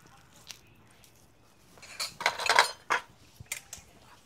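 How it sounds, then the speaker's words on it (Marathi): A spoon clinks and scrapes against a dish as a hot tempering is spread over steamed spinach dhokla, the short metallic taps and scraping loudest in the middle and then trailing off into a few scattered clinks. "आपला तडका आता ढोकळ्यावर टाकून घेऊया."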